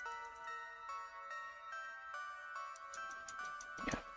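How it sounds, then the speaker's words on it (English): Old ringtone from a Japanese film plays as a steady electronic melody of repeating bright tones, fairly loud and close, with a sharp louder burst near the end. "Yeah, that old ringtone."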